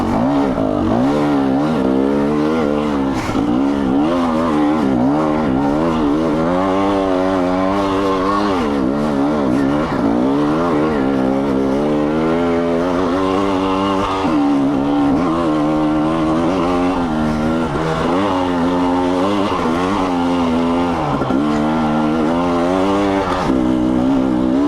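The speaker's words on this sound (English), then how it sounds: "So you could probably hear me switching between first and second gear there a couple times." A KTM XC-W dirt bike labors up a steep climb, its engine loud and close throughout, pitch repeatedly rising and dropping as it shifts between first and second gear.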